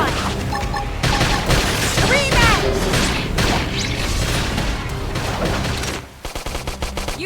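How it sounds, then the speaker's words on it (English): Dense, loud gunfire rattles almost nonstop through a battle in Xenoblade Chronicles X, rapid bursts layered with crashes and impacts that thin out briefly near the end. "Topple them with gunfire!"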